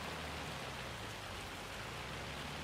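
Dense, steady downpour of rain or hail falling in the Farming Simulator 25 video game, a constant broadband hiss with no breaks and no talk.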